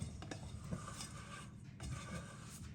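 A dough scraper works around the sides of a dish of milk chocolate and almond mixture, with soft scraping strokes and light clinks of the utensil against the bowl, close and quiet, with no talk.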